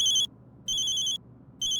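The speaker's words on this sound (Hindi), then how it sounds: "हमारी धर्मपत्नी राधा रानी का फोन है, उठा लें।" A phone rings in short electronic bursts, two full rings and the start of a third, evenly spaced and fairly close, with no talking.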